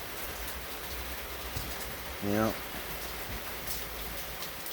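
Steady rain falls across a residential neighborhood late on a July 4th night, a soft, even hiss throughout, with a brief spoken word cutting in near the middle.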